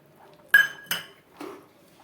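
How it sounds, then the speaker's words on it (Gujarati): A spoon clinks and scrapes against a pot while semolina is stirred in over a low flame, with three distinct metallic knocks, the first two sharp and close, the third softer. "ચમચાથી આ રીતે સારી રીતે મિક્સ કરવાનું।"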